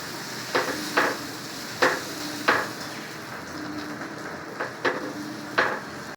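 Dosa batter for an omelette dosa sizzles on a hot pan as it is spread, with a steady hiss broken by a handful of sharp scraping taps from the spreading utensil.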